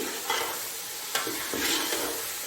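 Beef frying in a pot for yakhni beef pulao, a steady broadband sizzle with a few sharp stirring scrapes, close and loud, no voices.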